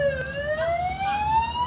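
A steady electronic siren tone rising slowly in pitch, loud and continuous, with no talking over it.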